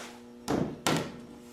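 Wooden tongue-and-groove cabinet door handled during a DIY build, giving two sharp knocking thuds about half a second apart, close and fairly loud against a quiet room.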